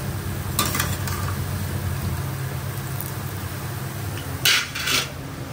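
Flour vadiyalu frying in the same hot oil left over from making bajjis, a steady close sizzle with a couple of brief sharper crackles toward the end.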